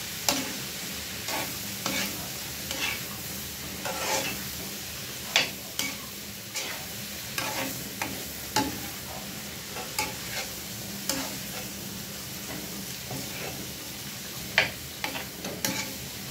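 Shrimp, blanched asparagus and vegetables stir-fried in a pan, with a steady sizzle under repeated scraping, clacking stirs of a utensil at an irregular, fairly quick rhythm, close by and with no talking.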